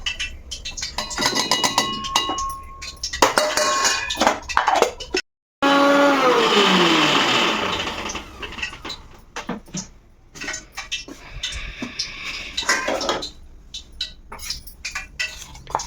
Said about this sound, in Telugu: ఇలాగా ఇవన్నీ కూడా ఇందులో వేసేసుకుని పేస్ట్ చేసుకుంటాను